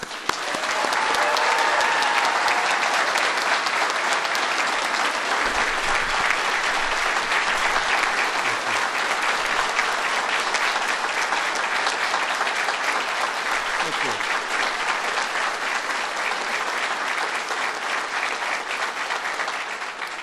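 A large audience at the CIA applauding to welcome President Trump at a swearing-in ceremony, loud, dense and sustained clapping that carries steadily for about twenty seconds.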